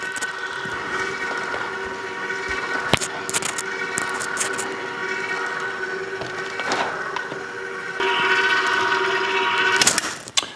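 An electric mixer stirs a soft marshmallow mixture with chocolate bits, giving a steady, fairly loud motor whir with a few clattering knocks. It runs for about ten seconds, growing louder near the end, with no talking.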